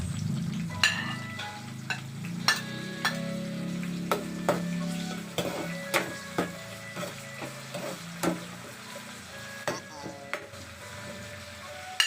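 Tomato and ginger sauté for a crab dish, a steady sizzle under a spoon that clacks and scrapes against the pan in a loose repeating rhythm, close and fairly loud.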